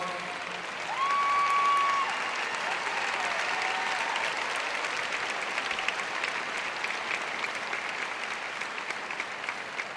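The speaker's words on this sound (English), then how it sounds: "Please give them a round of applause." Steady, dense applause from a big graduation audience honours the graduating students, holding at an even level throughout with a brief whistle near the start and some crowd noise mixed in.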